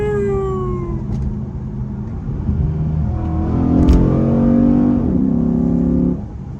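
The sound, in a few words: Chrysler 300 SRT8 accelerating at high speed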